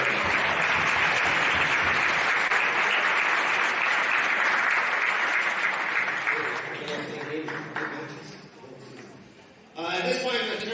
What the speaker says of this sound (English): the boys here deserve a big round of applause for their performance